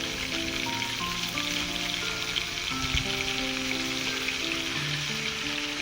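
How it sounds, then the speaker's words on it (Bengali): Potatoes and chicken frying with turmeric in a pan give a steady, dense sizzle that holds at the same level throughout, close and fairly loud, with a faint stirring knock partway through and no talking. "আর একটু নুন দিয়ে আমি আলু চিকেনটা ভালো করে ভেজে নেবো"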